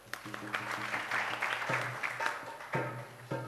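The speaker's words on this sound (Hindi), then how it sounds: "एकदम ताली बजाओ इनके लिए।" Audience at a Hindi religious discourse breaking into applause on cue, a dense, steady patter of many hands close by with a faint low tone running under it.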